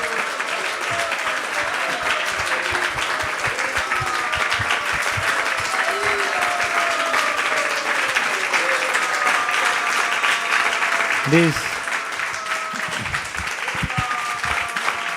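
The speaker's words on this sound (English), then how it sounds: "These claps are beyond my quota." An audience at a Krishna Katha talk at ISKCON of Silicon Valley applauds in dense, sustained clapping that holds steady for about fifteen seconds, with a brief voice sounding near the end.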